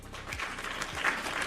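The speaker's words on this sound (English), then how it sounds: "Applause." A short burst of light applause, a few scattered claps rising briefly, fairly faint and with no voices.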